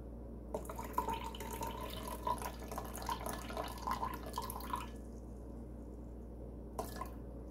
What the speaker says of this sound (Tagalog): Maglalagay ulit ako ng mainit na tubig guys.